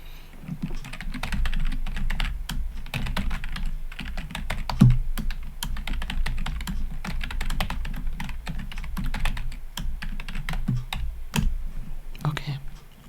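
Computer keyboard typing, a close, continuous patter of soft key clicks in uneven bursts with occasional louder taps, running throughout in a quiet room.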